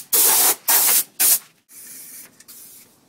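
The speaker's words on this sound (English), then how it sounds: "I decided to show you guys a little bit of the spray that's going on. Again, this is rust encapsulator." A spray gun lays rust encapsulator paint onto a 1964 Ford Mustang convertible in three loud, close hissing bursts. Softer, intermittent spraying follows.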